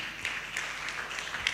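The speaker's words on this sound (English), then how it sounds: "A round of applause for Professor Rugajo." Steady audience applause at a Tanzanian organ transplant conference, a dense even patter of many hands clapping at moderate distance with no voices over it.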